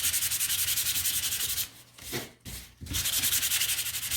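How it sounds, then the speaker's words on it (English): A painted wooden gnome is sanded by hand in rapid, rhythmic back-and-forth strokes, close and steady, with a brief pause partway through before the scratchy rubbing resumes. "we're going to sand"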